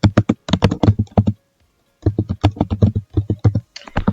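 Fast bursts of crisp computer keyboard keystrokes come in two runs separated by a short pause, close and clear with no talking.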